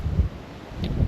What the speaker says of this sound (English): It is a little bit windy up here